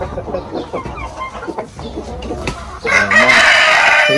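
Rooster crows on a Philippine chicken farm raising Brahma and other breeds, a loud near call rising after scattered clucks and farmyard chatter.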